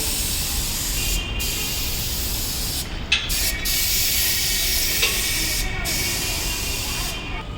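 A spray gun hisses steadily while applying primer to the bonnet of a modified Jeep 540 on 31x10.5x15 tires in a body repair workshop, a continuous close spray broken by short pauses.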